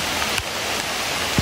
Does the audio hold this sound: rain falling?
yes